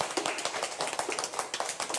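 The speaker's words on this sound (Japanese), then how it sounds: "拍手。" An audience at a Japanese idol group's variety web show breaks into brisk applause, many hands clapping in a dense, even patter for about two seconds with no talk over it.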